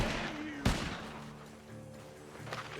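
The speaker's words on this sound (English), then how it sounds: "The gunshots are..." Gunshots ring out in Red Dead Redemption 2, one sharp crack standing out amid distant fire and game ambience.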